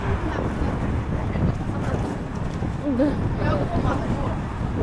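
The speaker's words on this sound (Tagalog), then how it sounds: "Super lakas ng hangin." Strong wind buffets the microphone in a continuous low roar near skyscrapers in Shanghai, with faint voices partly buried beneath it.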